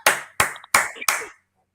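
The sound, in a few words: hand clapping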